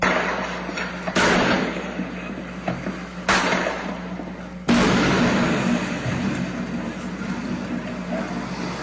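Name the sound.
gunshots and explosions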